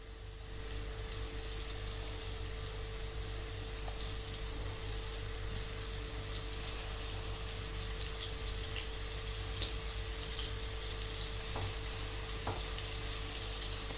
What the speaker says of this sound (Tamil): நெய்யில் எல்லா சைடும் பன்னீர் ஃப்ரை ஆகணும் நல்லா